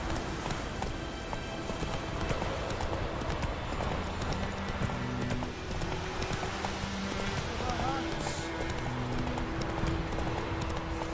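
Roach the horse galloping in The Witcher 3, a steady rhythmic clip-clop of hooves running continuously under game music and ambient sound, with a voice talking over it.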